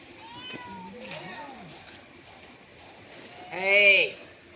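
A cat in a neighbourhood street gives one loud, close meow near the end, drawn out with a rising and falling pitch. Softer vocal sounds come before it over faint background noise.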